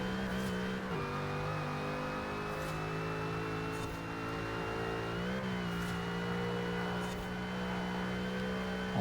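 A Porsche racing car engine in Forza Horizon holds a steady high drone, with pitch dips and rises at gear shifts and throttle changes, plus faint periodic clicks, close and continuous without voices.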